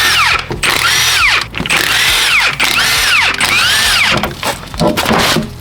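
High-torque power tool rated at 1,500 foot-pounds working on a project car's engine, loud close-up bursts of whirring and hammering that rise and fall in several short pulses.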